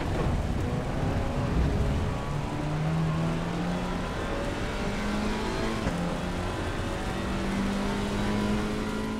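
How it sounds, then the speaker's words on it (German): Alpine race car engine in the Assetto Corsa EVO sim racing game, a steady loud drone with rising and shifting tonal lines as the revs climb and change gear, continuous throughout with no talk. "Neue Sounds gab es zum Beispiel beim Alpine, weil es eben ein neues Fahrzeug ist und der klang anscheinend sehr gut."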